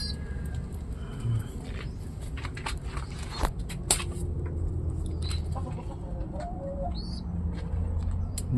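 Soft pigeon cooing and scattered bird calls over a busy outdoor background of chirps and rustling, fairly faint.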